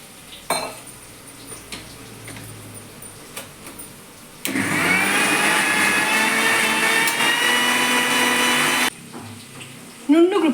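A kitchen mixer grinder whirs steadily for about four seconds while blending mint paste for pudina palav, framed by scattered clinks and handling noises before and after.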